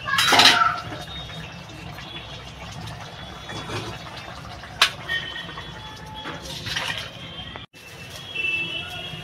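A cooking pot of cucumber curry is lifted off a home stove, giving a few sharp metallic clanks and scrapes against a low kitchen background hum.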